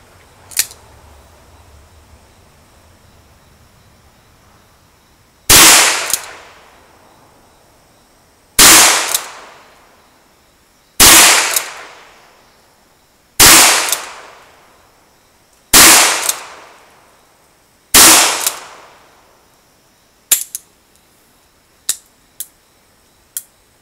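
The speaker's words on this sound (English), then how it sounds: "Again, I'll shoot the target on the left." Six sharp, loud shots from a Ruger Single Six revolver fired at a target, spaced a few seconds apart with short ringing decays, followed by a few fainter clicks.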